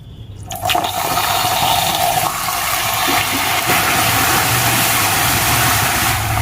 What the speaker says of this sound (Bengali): এখন আমি এর মধ্যে দিয়ে দিচ্ছি অল্প একটু জল।